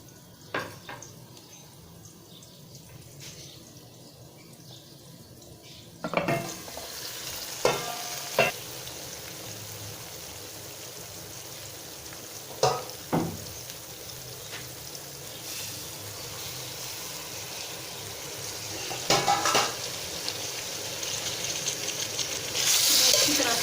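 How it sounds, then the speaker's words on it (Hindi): Chopped tomatoes, chilli and coriander powder stirred and fried in a pan for a bitter gourd karela dish. A steady sizzle runs throughout, with scattered clinks and scrapes of a spoon against the pan. "अच्छी तरह से मिक्स करके इसकी हम भुनाई कर लेंगे।"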